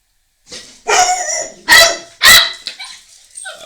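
A dog barks close by in several loud, sharp bursts, followed by softer yips and whines between them, with no talking.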